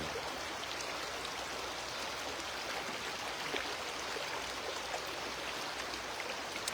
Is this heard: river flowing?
yes